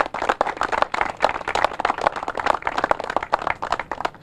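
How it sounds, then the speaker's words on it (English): A modest group at an outdoor press conference on the southern border claps for several seconds, with sharp, distinct, closely spaced hand claps near the microphone and no talk over them. "So a round of applause, please."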